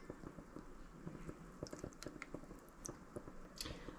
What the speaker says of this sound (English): I'm going to add the oil.